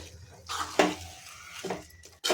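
A utensil scrapes and clinks against a pan as jaggery is mixed into pumpkin halwa, a few short metallic strokes with quiet gaps between, close and soft, no voices.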